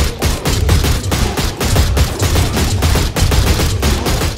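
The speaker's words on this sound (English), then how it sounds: "all you gotta do is shoot these slugs" Dense, continuous rapid gunfire from shooting slugs in the Oddworld: New 'n' Tasty video game, loud and close, with rhythmic bursts packed tightly together over a few seconds.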